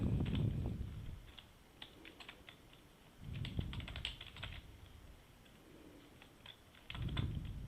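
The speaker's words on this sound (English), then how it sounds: "we can type it there" Soft computer keyboard typing in short bursts of quick keystrokes separated by pauses, close but quiet, with no voices.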